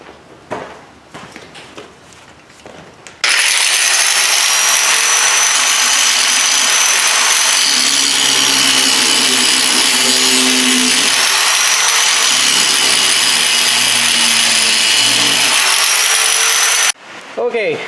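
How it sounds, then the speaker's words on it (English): An angle grinder runs continuously for about fourteen seconds, loud and close, grinding the chain joiners off the tailgate chain of a Claas Variant 360 baler, with brief clatter before and after. "But let me grind these off right quick."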